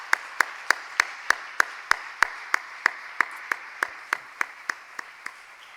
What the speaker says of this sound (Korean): 우리 하나님께 영광의 박수 한 번 더 올려드리겠습니다.